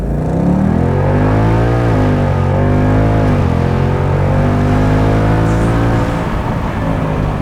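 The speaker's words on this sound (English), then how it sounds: "I'm just going to slam the accelerator, see how that goes." An automatic Ford Mustang GT accelerates hard from a standstill, its engine roaring loud and close with a steady rising drone and one audible gear shift partway through, without any talk.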